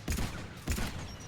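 Two sharp gunshot bursts from a weapon in the video game Mass Effect, about half a second apart, loud and close, each trailing into a brief rumbling decay with no talk.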